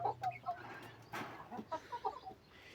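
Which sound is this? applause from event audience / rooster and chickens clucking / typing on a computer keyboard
rooster and chickens clucking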